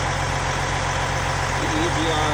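A diesel engine idles with a steady, dense low rumble during a Carbon-K hydrogen cleaning of the turbo, EGR and DPF, the hum continuous and fairly loud throughout.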